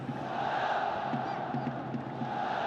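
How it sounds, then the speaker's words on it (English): Dense stadium crowd at an AFC Champions League football match between Al Hilal and Gwangju FC, chanting in unison with rhythmic pulses, a loud, sustained wall of voices. "More excellent crowd orchestration going on."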